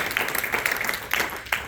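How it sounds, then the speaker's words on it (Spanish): A church congregation gives scattered, moderate applause for a pastor at a water baptism service, the clapping settling into a few separate sharp claps toward the end. "Un aplauso para el Pastor Jesús Álvarez"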